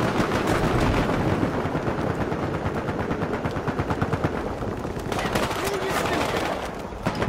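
Rapid automatic gunfire in the video game Battlefield Hardline, with dense overlapping bursts and shots, loud and continuous throughout with a busy game mix.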